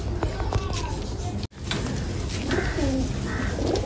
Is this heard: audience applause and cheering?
no